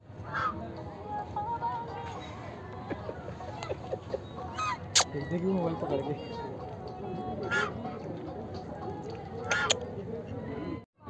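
Ducks and geese at a lakeside duck farm honk and quack in repeated bursts, close and fairly loud over a busy background, while someone speaks briefly.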